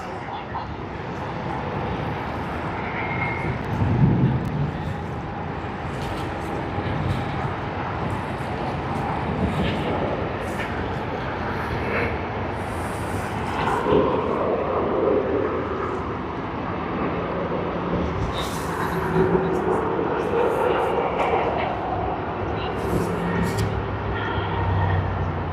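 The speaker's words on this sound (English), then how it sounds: "There seemed to be a bit of wind when this aircraft landed, the Boeing 737-800 off Qantas" A Qantas Boeing 737-800 airliner rolls out after landing at Sydney Airport, its engine roar a steady, moderate rumble for the whole stretch, with people talking over it.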